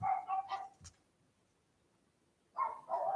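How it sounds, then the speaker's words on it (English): Dogs bark in two clusters a short way off, separated by a quiet pause of about a second and a half, with no talking. "And these dogs are barking"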